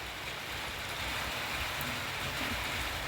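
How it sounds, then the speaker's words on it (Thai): Steady rain falling outdoors, a dense continuous hiss that stays even and fairly loud throughout, with no voices. "ฝนตกเนาะ"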